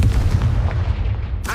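A Confringo blasting spell cast in Hogwarts Legacy on PC, sounding as a dense, sustained low rumbling boom that holds steady at close range, with a brighter burst flaring near the end.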